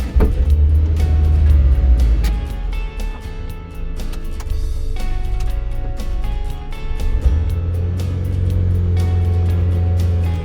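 A 1987 Honda CRX DX on a drive through a neighborhood, its engine a steady loud low drone with gear changes shifting the pitch, running continuously with no talk.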